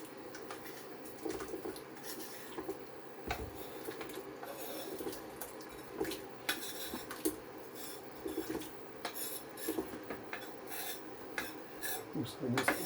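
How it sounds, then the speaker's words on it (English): Potato pieces tipped and scraped into a pot of New England clam chowder, a quiet run of clinking, rasping and knocking of utensil on pot over a low steady background, no voices. "I'm going to put all my potatoes in there."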